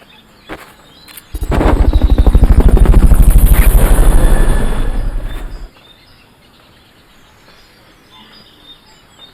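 A Fulton recovery helicopter in Metal Gear Solid: Peace Walker swells in with a loud, rapid rotor thump, holds for a few seconds, then cuts away, leaving faint game ambience behind.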